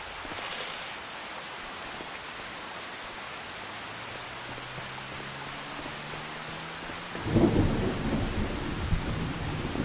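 Steady rain hisses throughout in Farming Simulator 25 on the Elm Creek map, with a low rolling thunder rumble building midway and a louder crack of thunder near the end.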